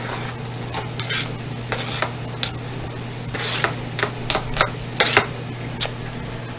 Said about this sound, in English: Now, I'm gonna add in the minced shallot.